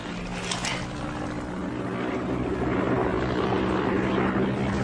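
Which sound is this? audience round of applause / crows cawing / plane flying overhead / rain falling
plane flying overhead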